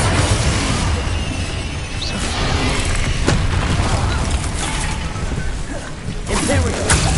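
Spell blasts in the Hogwarts Legacy video game: a dense, continuous wall of booms, crashes and whooshing impacts, loud and close throughout, with a few sharper bursts standing out.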